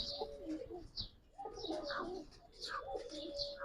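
Soft, low coos from Giribaz pigeons repeat in a gentle rolling rhythm, with faint higher chirps mixed in, quiet and close, at a loft.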